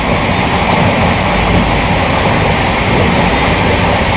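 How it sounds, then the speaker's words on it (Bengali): The Rajdhani Express New Delhi–Sealdah train runs at about 130 km/h, heard from inside the coach as a loud, continuous rumbling roar of wheels and carriage noise with no pauses. "এই মুহূর্তে রানিং স্পিড আছে রাজধানী এক্সপ্রেসের"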